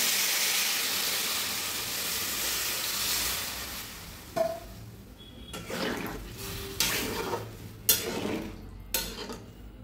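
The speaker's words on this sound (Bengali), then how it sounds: "এবার আমি জল দিয়ে দেবো" Water pours into a pan of taro curry, a rushing hiss that fades, followed by several sharp clinks and scrapes of a spoon stirring against the metal pan.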